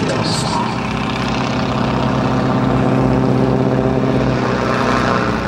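John Mohr's stunt airplane drones loudly at an air show as the propeller engine throttles back, a steady, sustained engine roar with crowd noise and commentary woven under it.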